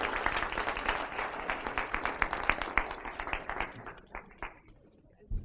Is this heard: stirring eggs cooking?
no